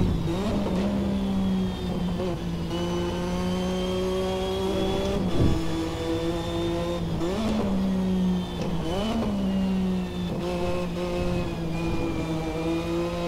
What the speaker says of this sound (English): Just getting the engine up to temperature here.